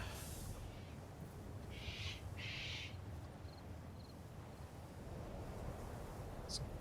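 Birds fly past in a salvage-only survival building game, giving a few short, faint calls over a steady wind-like ambient wash.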